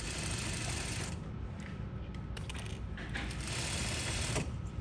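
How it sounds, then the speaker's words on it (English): Sewing machine stitching a short run on jacket fabric at a shawl collar, a faint steady mechanical whir with rapid ticking stitches close by, no talking. "So here I'm going to stitch a little just so I can get the needle out of that way."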